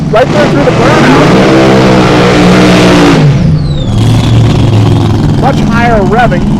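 Drag racing cars at a Great Bend drag strip rev hard through a burnout, with a loud, sustained high-revving engine roar that drops after about three seconds, while an announcer talks over it throughout.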